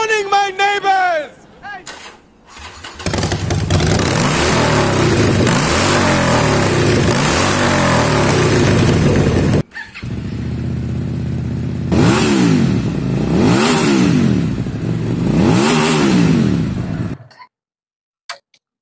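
A 2023 QJMotor SRV250 and a 2012 Harley-Davidson Sportster 48 revved in turn, loud close engine roars climbing and falling in repeated sweeps, with short pauses between bursts and a brief voice at the start.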